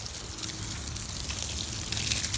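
Water running out and splashing onto grass, a steady broadband trickle and gush that stays close and even throughout, with no talk over it.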